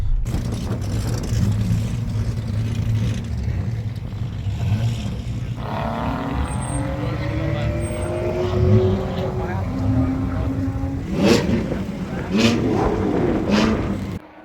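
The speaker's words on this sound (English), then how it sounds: "There was cars running around on the racetrack" Cars run laps on a racetrack at a Cars and Coffee meet at G2 Motorsports Park, engines droning and revving steadily throughout, with a passing vehicle rising near the end while people talk nearby.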